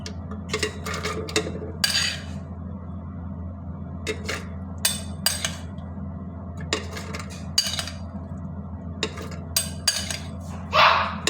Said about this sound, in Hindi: ये दाने इसमें डाल दूँगी